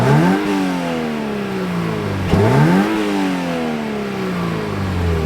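A 2023 Toyota GR86 Premium sports car engine revs up hard through the gears, the pitch climbing, dropping at a shift, then climbing again in a loud, close, sustained run with no talking.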